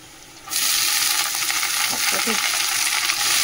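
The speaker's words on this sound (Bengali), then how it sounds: "দিয়ে একটু ভেজে নিই পেঁয়াজ রসুনটা, দিয়ে তারপর শাকটা" Onion, garlic and chili frying in hot oil as greens are tossed in, a sudden loud burst of sizzling after a quiet start that stays steady and close, with some stirring scrapes and no talk.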